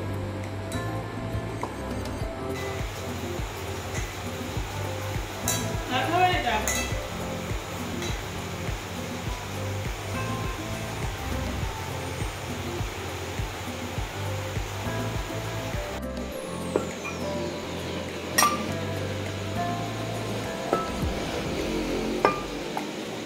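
Metal kitchen containers clink now and then while being washed under running water from a tap, which keeps up a steady rushing hiss with occasional sharp metallic taps.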